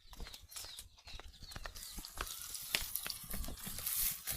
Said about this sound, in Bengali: আমি আলুটা ভালো করে ভেজে নিচ্ছি, আপনাদেরকে দেখাই।